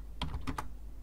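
Three quick keystrokes on a computer keyboard while entering a sudo command, crisp close clicks in a short burst with no talking.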